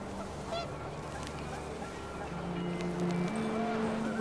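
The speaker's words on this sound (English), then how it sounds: "panicked geese appeared and quickly went" Panicked geese honk in the video game What Remains of Edith Finch over a steady windy outdoor ambience, with the honks growing louder and more insistent toward the end.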